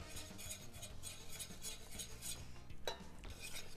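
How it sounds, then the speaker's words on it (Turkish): Flour stirred into melted butter in a pot makes faint, rhythmic scraping and spoon clinks against metal, with a low background hum. "Eriyen tereyağının üstüne unumu ilave ediyorum."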